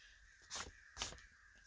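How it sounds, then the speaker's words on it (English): Crows cawing outside, heard from indoors: two faint, harsh caws about half a second apart over a quiet background hiss. "Listen to all those birds. Do y'all hear that?"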